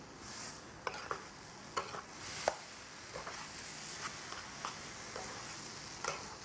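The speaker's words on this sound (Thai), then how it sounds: "ผัดพอมีกลิ่นหอมนะคะ" Chili paste ingredients are stir-fried in a pan, with a soft steady sizzle under irregular sharp scrapes and taps of a utensil against the pan, spaced every half second or so.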